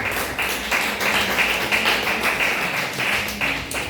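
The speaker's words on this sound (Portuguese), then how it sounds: "Você pode aplaudir o Senhor." A church congregation applauding, with a steady, fairly close wash of many hands clapping that carries on for several seconds.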